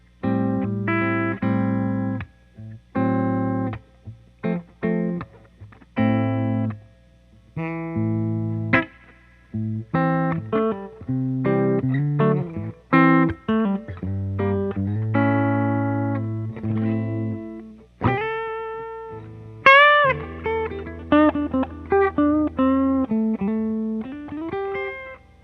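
Electric guitar played through a boost pedal with a mid-hump tone, plucked notes and chords in a loose, stop-start phrase, close and loud with no talking.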